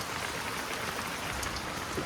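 Heavy monsoon rain falling in Guwahati in a dense, constant roar, with no voices.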